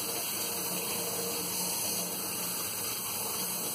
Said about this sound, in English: That half a cup, you need hot water.